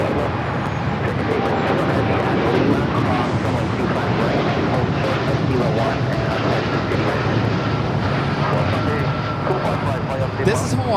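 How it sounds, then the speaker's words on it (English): A Hawaiian Airlines Boeing 787-9 Dreamliner taking off from Los Angeles International Airport, its engines a steady, moderately loud roar that holds throughout, with broadband wind-like noise over it. "This is Hawaiian Airlines Flight 3 taking off to Honolulu on the 787-9 Dreamliner."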